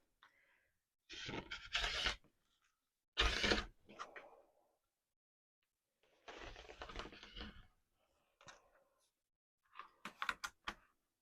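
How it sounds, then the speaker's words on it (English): Scissors or a cutter slicing through quilting fabric along marked lines for half square triangles, several close crisp cutting bursts separated by silent gaps. "now I'm going to cut on those horizontal and vertical"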